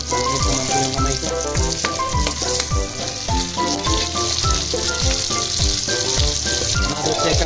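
Chopped garlic sizzles and fries loudly in a hot pan as the first step of a Filipino pinakbet, a steady crackling hiss with stirring scrapes throughout.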